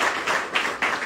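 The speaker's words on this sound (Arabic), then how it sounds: "تصفيق أحلى" Applause from an audience at an embassy discussion event: brief, soft waves of clapping, fairly even, with no talking.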